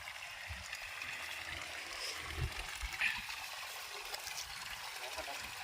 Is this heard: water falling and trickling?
yes